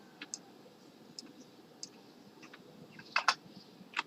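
Scattered clicks of keys being typed on a computer keyboard, a few soft taps followed by a sharper cluster near the end, close and quiet in a still room.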